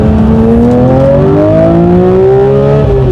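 Porsche 992 911 S/T engine revving hard toward 9,000 rpm, a loud, close rising howl that climbs steadily in pitch through the gears before easing off.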